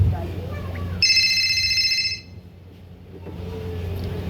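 Phone ringtone during a call to a friend in a comedy skit, one bright electronic ring lasting about a second over a low background hum, followed by quiet.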